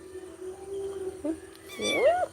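A kitten lets out one rising, fairly close meow near the end, preceded by a low steady hum and a brief squeak.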